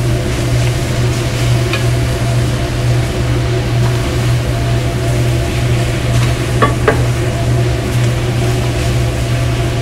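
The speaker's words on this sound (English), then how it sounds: "It's also going to deglaze the pan a little bit." Machaca sizzles loudly and steadily in a hot pan as salsa deglazes it, a dense, even frying hiss that fills the whole stretch with no talk.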